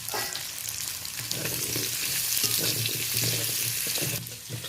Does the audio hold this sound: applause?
no